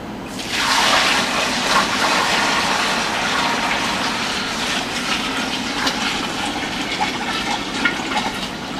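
Water preheated to about 100 degrees pours steadily into a container of rye and multigrain mash for moonshine, a continuous close rushing and splashing fill with no talk.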